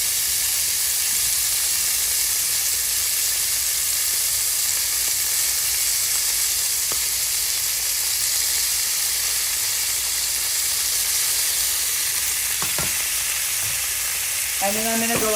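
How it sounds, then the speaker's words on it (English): Chicken sizzles steadily in a hot skillet, a loud continuous fry hiss running throughout with no talk, and a few brief clinks and rising squeaky scrapes near the end. "We're gonna go ahead and just place this into our hot skillet."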